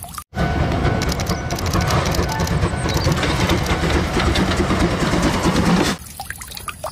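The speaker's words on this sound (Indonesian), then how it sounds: "Wow, kereta api." A toy train runs continuously, with a dense rattling, whirring mechanical motor noise held loud and steady for about six seconds before it cuts off into quiet.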